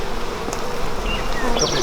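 Honey bees buzz steadily and loudly at close range while a hive is opened for inspection, a dense continuous drone with individual bees whining past.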